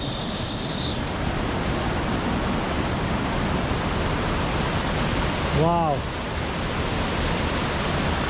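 A jungle waterfall rushes in a loud, steady roar that fills the whole clip, with a high whistle near the start and a brief spoken exclamation about halfway through.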